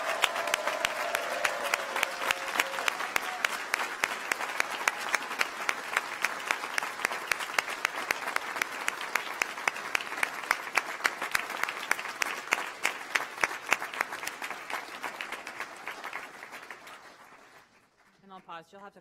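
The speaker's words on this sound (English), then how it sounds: "So one more round of applause for all of these incredible graduates." Sustained audience applause for civil and environmental engineering graduates at a 2019 graduation ceremony, dense steady clapping from a large crowd for about fourteen seconds before thinning out and fading, with a brief voice near the end.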